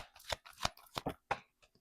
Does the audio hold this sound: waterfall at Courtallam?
no